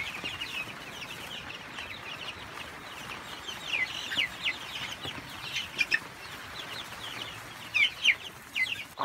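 Barred Rock, Icelandic and Cornish Cross chickens and chicks make scattered high peeps and soft clucks over a busy, rustling coop background, the calls coming in short irregular bursts that grow more frequent toward the end.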